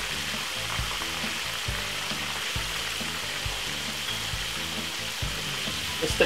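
Eight medium-sized chicken pieces frying in oil, a steady, moderately loud crackling sizzle with scattered pops throughout, no voices.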